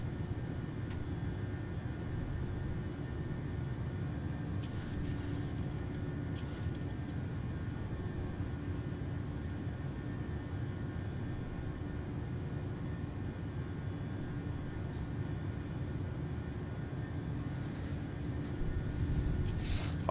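Airliner taking off in Microsoft Flight Simulator, a steady low engine rumble and roar that holds for twenty seconds and swells slightly near the end, with faint clicks over it.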